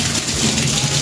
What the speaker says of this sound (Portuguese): Muita chuva, graças a Deus.